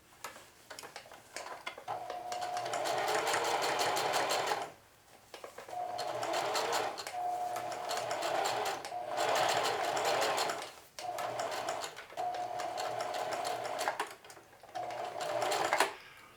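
A sewing machine stitches a jeans pocket in several bursts of rapid, even mechanical clatter, each running a few seconds with brief pauses between them, close and loud, with no talk.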